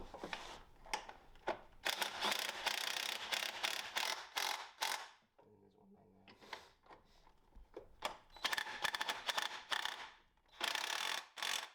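Ratchet spanner tightening engine mounting bolts on a Mini in a workshop, close rapid clicking bursts in repeated strokes with brief pauses and a quieter metallic interval between.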